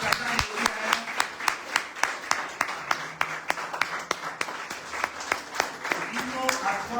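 A church congregation claps in a steady, rhythmic beat, loud and sharp, with voices and singing mixed in underneath.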